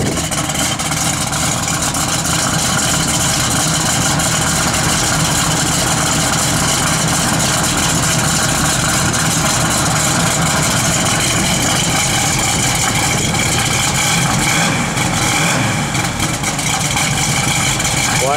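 A 1969 Chevrolet Camaro SS V8 idles steadily up close, a loud continuous rumble with a dense low-end drone that holds for the whole stretch without revving.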